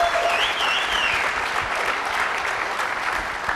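Dense, continuous audience applause fills the room at the press unveiling of Lara Croft Tomb Raider: The Angel of Darkness, holding loud and steady throughout.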